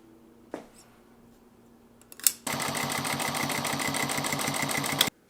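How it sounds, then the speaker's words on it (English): A Juki DNU-1541 industrial sewing machine winds a bobbin. After a couple of soft clicks, its motor starts with a steady, close, rhythmic whirring hum that lasts about three seconds and then cuts off abruptly. "So I've loaded this bobbin and it automatically kicked off when it was this full."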